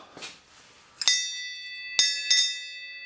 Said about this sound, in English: So I'm going to ring the bell.